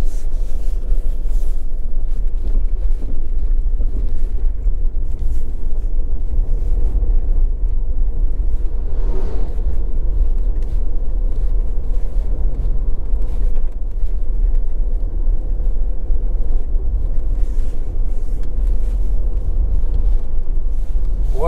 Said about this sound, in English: So I'm driving on A2.